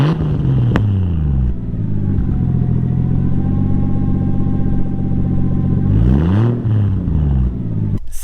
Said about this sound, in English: This exhaust system, it sounds so good.